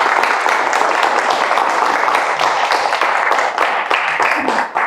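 Audience at a local history talk on Sister Bay postcards applauding, a moderately sized crowd clapping steadily with some distinct individual claps, tapering off at the very end.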